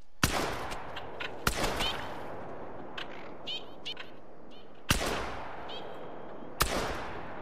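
Four sharp gunshots ring out in a duck-hunting video game aimed at Eurasian teal, spaced irregularly, each a loud crack with a trailing echo, with faint bird calls in between.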